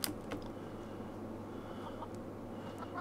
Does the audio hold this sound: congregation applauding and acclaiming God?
no